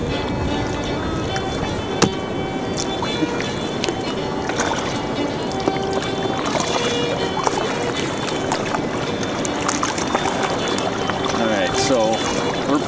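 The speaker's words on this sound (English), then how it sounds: "So we're paddling ahead a little bit." Paddles push through water as a canoe moves across a lake on a Quetico wilderness trip, with steady sloshing and wind noise filling the scene and a voice speaking over it.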